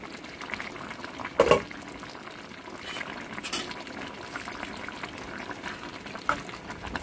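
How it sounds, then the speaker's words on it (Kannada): Avarekayi curry simmers in a covered pot, giving a soft, steady bubbling with a couple of brief louder pops and clinks, faint and close. "ನೋಡಿ ಇವಾಗ ಹದವಾ ಕುದಿತಾ ಇದೆ ಚೆನ್ನಾಗಿ ಬೆಂದಿದೆ"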